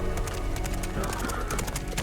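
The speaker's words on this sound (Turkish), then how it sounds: "Atlar falan geliyor." Horses galloping in the video game A Plague Tale: Innocence, a rapid clip-clop of hooves under a layer of game sound and voices, with a possible whinny mixed in.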